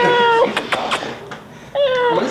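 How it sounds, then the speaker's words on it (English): A pet cat gives two clear, close meows at the start and end, with a voice talking in between. "That's my little kitty, bro."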